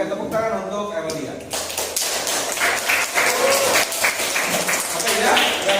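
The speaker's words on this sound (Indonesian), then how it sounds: "tepuk tangan untuk Emilia" Students in a classroom clap for a classmate, brisk overlapping handclaps mixed with voices and chatter, loud and close, starting after a brief stretch of talk.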